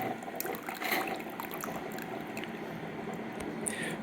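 Water runs and trickles through a clogged Keurig 2.0 coffee machine jammed with coffee grounds, a steady close liquid flow with faint gurgles throughout.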